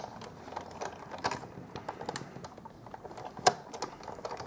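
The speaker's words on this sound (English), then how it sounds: "And I'll run that through the Big Shot." A Big Shot die-cutting machine is cranked by hand with a cutting plate on top, giving a steady run of close, soft mechanical clicks and ratcheting ticks, with one sharper snap near the end and no talk.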